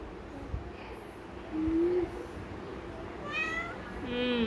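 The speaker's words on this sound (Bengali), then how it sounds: "মিয়াও।" A cat meows a few times, soft and close, with a quiet pause between calls against faint background noise.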